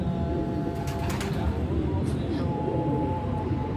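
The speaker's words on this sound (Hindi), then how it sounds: "पिजन जो है वो जाकर दीवार पर बैठे हुए थे, वो भी जो है वापस आ रहे हैं।" Pigeons coo outdoors in the evening, returning from a wall, with soft repeated low calls under steady background noise and someone talking nearby.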